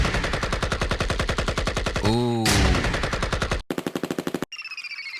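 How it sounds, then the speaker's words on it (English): Rapid machine-gun bursts of sampled gunshots from a trap drum library, loud and tightly spaced, broken by a sweeping effect and a short voiced exclamation, ending in quicker fading shots. "We all know you need gunshots"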